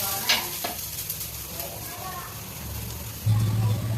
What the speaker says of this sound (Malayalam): അപ്പോൾ നമുക്ക് കുറച്ച് വെളുത്തുള്ളിയും ഇഞ്ചിയും ഒക്കെ നമ്മൾ ഈ തേങ്ങയുടെ അകത്തിട്ട് വറക്കാം കേട്ടോ.